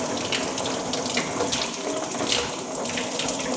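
Steady stream of tap water rinsing acid off an etched printmaking plate in a sink, a continuous close splashing hiss with no talk.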